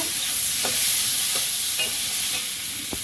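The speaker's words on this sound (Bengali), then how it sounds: "একটু ভেজে নেব" Prawns sizzle loudly and steadily in hot oil in a wok during home cooking in the Sundarbans. Faint stirring taps sound now and then, and no voices are heard.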